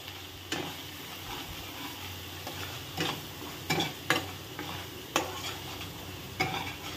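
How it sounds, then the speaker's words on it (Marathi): Onion and coconut masala being stirred in a pan over a constant sizzle, with a spoon scraping and tapping against the metal in irregular bursts, close and clear with no speech. "तो मसाला मी ह्याच्यात टाकलेला आहे. व्यवस्थित त्याला आपण मिक्स करून घेऊयात."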